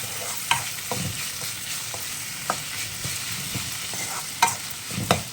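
Onions sautéing with turmeric and salt in a pan, a steady close sizzle with repeated scraping stirs and spoon knocks against the pan, no voices.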